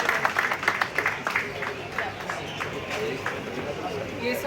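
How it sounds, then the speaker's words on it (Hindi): A crowd at a BJP medical wing event in Faridabad applauds a guest in a steady wash of clapping, moderately loud, with voices and chatter mixed in throughout. "जोरदार तालियों के साथ स्वागत कीजिए।"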